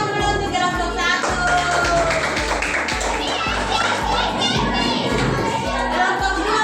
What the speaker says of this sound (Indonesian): ayo tepuk tangan dulu untuk kelompok satu.